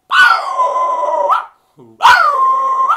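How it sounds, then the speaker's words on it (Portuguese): A dog close by gives two loud, long, drawn-out barks with a short quiet gap between them, almost howling in tone. "Começou o cachorro latir, cara."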